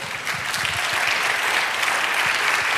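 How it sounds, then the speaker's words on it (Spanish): Loud, sustained audience applause during a church sermon, a dense and even roar of many hands clapping together that holds steady for its whole length. "darle aplauso, sí"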